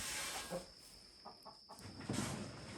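Soft, scattered clucks from a few chickens at a distance over steady background hiss, with no talking.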